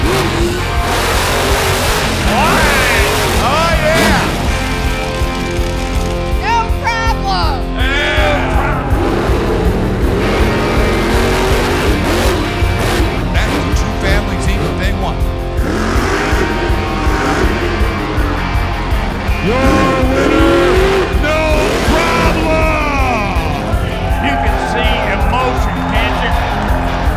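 Race cars race around a dirt track, their engines revving and roaring past in loud, overlapping waves, with excited voices and crowd chatter heard throughout.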